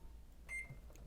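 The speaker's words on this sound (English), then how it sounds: "we're just gonna pop this in the microwave for about 5 minutes" A microwave oven running while heating a bowl of oatmeal in a dorm or apartment kitchen, giving a low, steady hum with a brief bright tone partway through and a louder clunk at the end.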